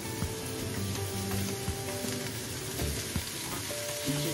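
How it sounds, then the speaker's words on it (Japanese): Cut mushrooms frying in olive oil in a frying pan, a dense steady crackling sizzle heard up close with a few light knocks of the pan, no talking. "フライパンにオリーブオイルを垂らしてあげて、先ほどカットしたキノコですね、こちらを入れてカリッと焼き色がつくように炒めていきたいと思います"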